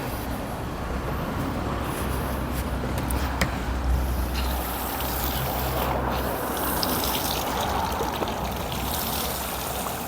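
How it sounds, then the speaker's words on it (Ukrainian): Water gushes and splashes steadily from a pool hose, a dense, continuous rushing that stays close and loud throughout. "якщо шланг не пережимати, то так воно хляпає"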